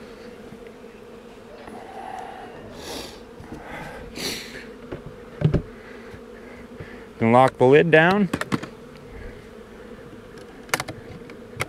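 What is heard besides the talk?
honey bees from package in Apimaye hive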